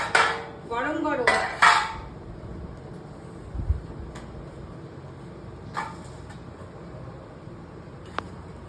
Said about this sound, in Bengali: চলুন খাবারটা এবার বেড়ে ফেলি